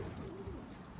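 A black racing pigeon hen coos softly and steadily in a low, murmuring tone, nearby and alone with no talking, after landing from a 357 km race.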